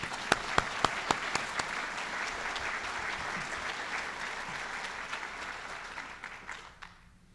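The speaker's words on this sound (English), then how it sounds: "Maybe another round of applause." Applause at President Nixon's 105th birthday ceremony at the Richard Nixon Presidential Library opens with a few crisp, separate claps. It swells into a sustained, fairly distant round and then fades out toward the end.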